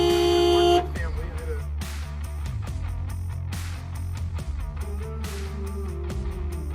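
A car horn on a Subaru Forester blares loudly for under a second at the start, warning of an impending collision on a desert highway, then gives way to rumbling traffic noise with clicks and knocks.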